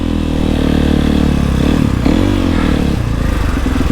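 A supermoto motorcycle engine revs loud and close, its pitch rising and falling through a throttle blip, with some mechanical clatter and no talking.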